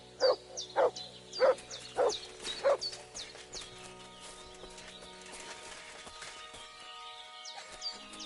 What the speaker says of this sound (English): Good dog, mate.